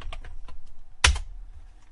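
Computer keyboard typing: a few soft, scattered keystrokes, then one sharp, louder key clack near the middle, followed by quiet low room rumble, close and alone.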